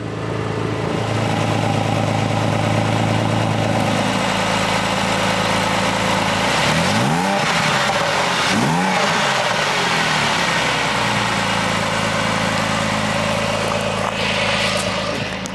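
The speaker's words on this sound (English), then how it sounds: "you'll see me closing the valves, and you can hear it with the valves closed now" A Porsche 911 997.1 Carrera S in Speed Yellow with exhaust valves closed idles loud and close, then gets two sharp revs that swoop up and fall back before it settles to a steady idle again.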